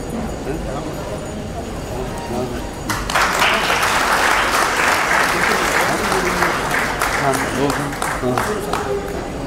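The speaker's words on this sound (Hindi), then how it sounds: "जोरदार तालियों से आप सब अभिनंदन करिए" Loud audience applause at a Hindi-language public ceremony, starting after a few seconds of low crowd murmur and then building into a sustained, dense wave of clapping that holds to the end.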